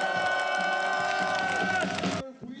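A crowd roars and shouts together at a candlelight protest rally celebrating a president's impeachment in city streets, a dense sustained mass of voices that drops away abruptly near the end.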